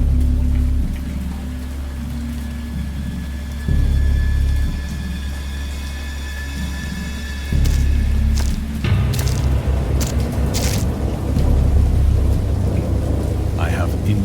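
Thunderstorm with rain in the Dagon video game, a heavy continuous downpour with deep rolling thunder swelling partway through and loud crackling peals near the end, with no voices.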